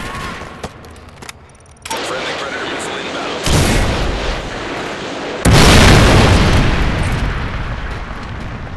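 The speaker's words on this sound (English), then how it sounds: "Predator missile." A Predator missile strike in Call of Duty: Modern Warfare 3 lands as heavy, loud explosions, with a deep boom followed by a second even bigger blast and a rumbling roar that carries on after it.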